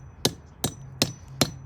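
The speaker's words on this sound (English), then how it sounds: "I use my claw hammer because I don't have a sledge handy" A claw hammer strikes metal tabs cut in a post, four sharp evenly spaced blows, close and loud with no talking.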